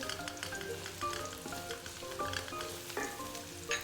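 Bone-in chicken and whole garam masala fry in a pot for chicken pulao, with a loud, steady crackling sizzle and bursts of spattering throughout, no voices.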